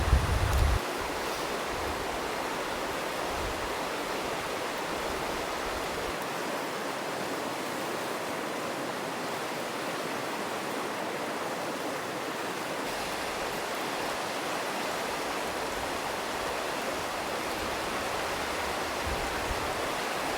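A cold forest creek flowing at a campsite, a steady rushing wash of water that continues evenly throughout, moderately close, with no voices.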